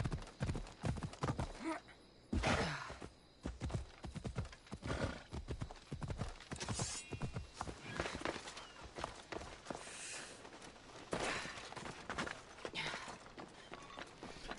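Rapid hoofbeats gallop at close range with occasional whinnies in the video game Assassin's Creed Odyssey, continuing energetically throughout.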